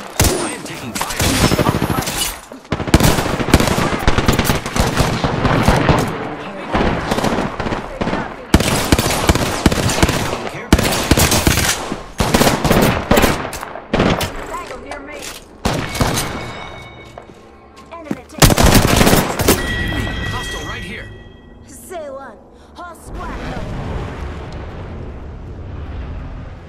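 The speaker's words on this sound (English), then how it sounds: "I am taking fire." Rapid bursts of gunfire and explosions in the video game Apex Legends, loud and near, repeated volleys with short gaps, with game voice callouts mixed in.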